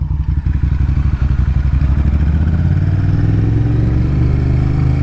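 A Honda VTR1000 motorcycle climbing a hill, its V-twin engine loud and close with a steady low throbbing rumble that holds a strong pulsing rhythm throughout under load.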